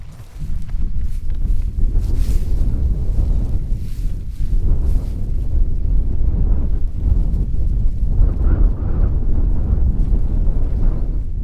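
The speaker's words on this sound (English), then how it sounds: "It's very windy, very windy." Strong wind buffets the microphone in a constant low roar, gusting throughout with no voices.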